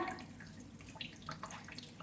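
A tap runs water for a bath at home, a faint, steady trickle and splash with a few louder drips, heard quietly with no one speaking.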